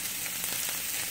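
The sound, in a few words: apple salmon sizzling on the stove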